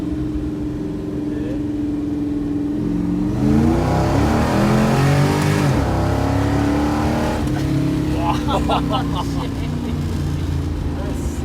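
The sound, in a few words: car engine revving and shifting gears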